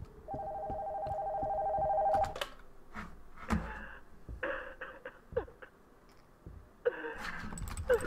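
A ringing telephone upstairs in the horror game Nocturnal Visit gives a steady electronic tone for about two seconds, then cuts off, followed by scattered clunks, breaths and handling noises.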